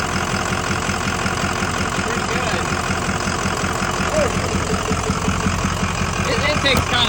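A diesel truck engine idles loudly and close by with a loud intake roar and a steady rumbling chug. The sound runs unbroken throughout, and a voice talks over it.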